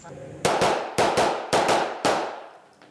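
Gunfire at a shooting range in Helsinki: five loud, sharp reports in two quick pairs and a single shot, each with a ringing decay, close by with no talk over them.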